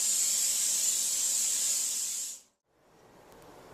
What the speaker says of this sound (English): just coat it lightly with the coated cooking spray